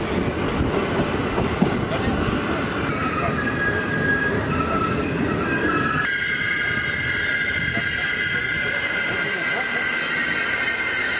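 Italian FS regional train running along rails, a steady broadband rumble of wheels on track with faint high squeal tones, continuous throughout with no clear clickety-clack rhythm.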